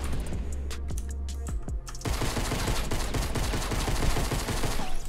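Gunfire in a pistol-only Fortnite Battle Royale match: a few sharp shots in the first two seconds, then a dense, rapid run of crackling shots that keeps going to the end, loud and close with no talking.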